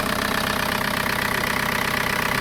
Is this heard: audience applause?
no